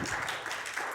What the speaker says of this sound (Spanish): Dele un fuerte aplauso a nuestro Señor.